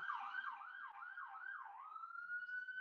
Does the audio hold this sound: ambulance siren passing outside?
yes